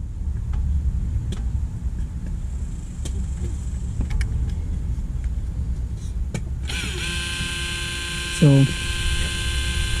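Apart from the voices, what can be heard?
Civic Type R electric rear brake caliper motor running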